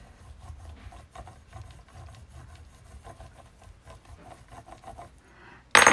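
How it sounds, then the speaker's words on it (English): A small burnishing tool rubs back and forth over leftover clay in close, steady raspy strokes, repeated quickly, ending in a sudden loud burst of noise. "I kind of like to use my little burnish tool here, burnishing tool."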